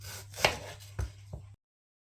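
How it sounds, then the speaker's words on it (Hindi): Three distinct knife chops on an onion against a cutting board, spaced about half a second apart, close and fairly quiet over a low steady hum, then silence. "एक ओनियन है, इसको काट लेते हैं।"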